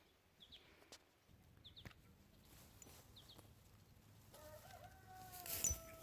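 Broody hen clucking on an Australian homestead, a few short soft clucks spaced out, close and faint, followed by a louder rustle near the end.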